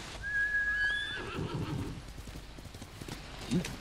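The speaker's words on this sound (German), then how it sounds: "Ruf mal das Pferdchen, da können wir ein bisschen schneller reiten." In Ghost of Tsushima a horse gives a high whinny, then its hooves clip-clop in a quick galloping rhythm, fairly quiet and close.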